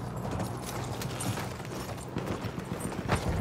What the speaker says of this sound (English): Riding a horse.